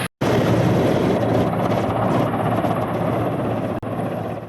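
A helicopter on a trial flight carrying NEET exam papers thunders loudly and steadily, a dense continuous rotor and engine roar close by throughout, with a brief dropout near the end and no talking.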